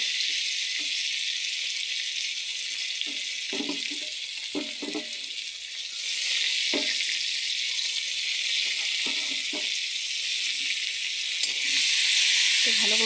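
Onion, ginger and garlic fry in a pan with a loud, steady high sizzle throughout, briefly broken by soft stirring knocks, then surging a little louder partway through.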